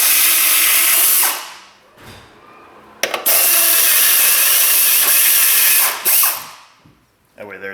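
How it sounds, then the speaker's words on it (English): A power tool spins the top mount bolts off a Subaru Forester front strut in loud, close bursts. Two long runs are separated by a pause and a sharp metallic clack, and a short final whir follows. "we're going to pull the 3 bolts off the top mount here and pull the strut out"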